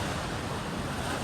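Sea waves roll where the Karli river meets the sea at Devbag, a steady broadband wash of surf mixed with wind rumble, continuous and fairly loud with no voices.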